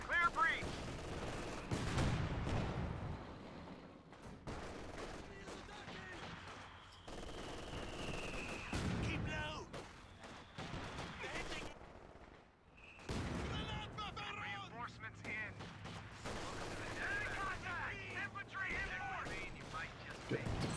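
A long-range howitzer barrage pounds a strategy-game battlefield, a steady roar of overlapping blasts and rattling gunfire mixed with other combat noise, dense and continuous throughout, with voices briefly audible in the mix.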